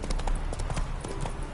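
A horse's hooves clip-clop at a brisk trot in The Witcher 3, a rapid, steady run of hoof strikes heard up close and fairly loud.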